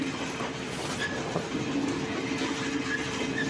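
A train crawls slowly through the level crossing at Kawran Bazar in Bangladesh, a steady rumbling roll of wheels and carriages with faint clickety-clack, heard from close by and without pause across the whole stretch.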